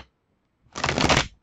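Oracle cards shuffled by hand in one brief riffling burst of papery flutter, close and crisp, after a moment of near silence.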